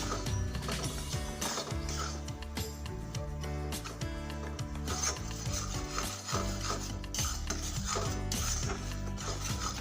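Semolina roasting dry in a pan is stirred without pause, a continuous soft scraping and rubbing under prominent background music.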